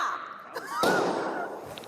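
Simulated gunshots ring out during an active shooter training drill for school educators: a sharp loud burst partway through, followed by a lingering noisy tail, with a quieter pop at the very end.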